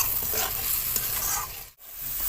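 Mustard-poppy paste with turmeric sizzles and scrapes in a hot pan as it is stirred, a dense close frying hiss that breaks off briefly before resuming.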